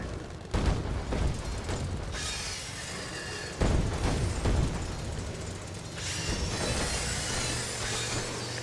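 Gunfire and explosive blasts erupt in the zombie game Dead Rising 3, several sharp loud bursts with crashing debris over a rumbling background and a low hum later on.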